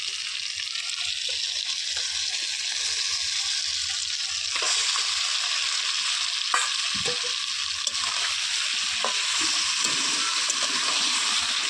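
Chicken pieces fry and are stirred with stone-ground spices in a pot over a wood-fired clay stove, giving a steady close sizzle with scraping stirs and occasional clinks throughout, with no talking.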